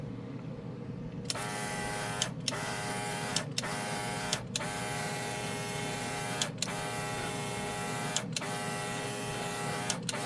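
An all-in-one airbrush system spraying paint onto a scale model, with a steady mechanical compressor-like buzz that stops briefly at regular intervals, close and continuous, with no talking.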